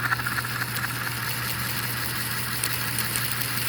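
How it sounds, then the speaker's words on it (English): Lionel model steam locomotive running fast at about 15 volts, giving a steady, even chuffing hum with faint rapid pulses, continuous and fairly close, no voices. "when we take off, you then get the chuffing"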